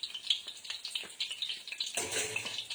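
Palak paneer and aloo palak cooking in a pan give a soft, bubbly sizzle with gentle crackles that swells louder toward the end, as the food browns.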